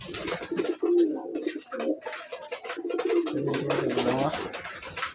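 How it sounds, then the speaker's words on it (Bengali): Pet pigeons coo close by in low, rolling, repeated phrases that overlap into a steady murmur, with scattered rustles and knocks from the birds around them. "আমার পছন্দের কবুতরগুলা।"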